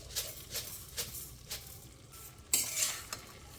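Grated carrots for carrot halwa fry in a pan with a low, steady sizzle. A spatula stirs them in a regular rhythm of soft scrapes, and the stirring gets louder near the end.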